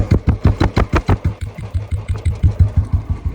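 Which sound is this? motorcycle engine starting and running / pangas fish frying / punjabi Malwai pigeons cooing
motorcycle engine starting and running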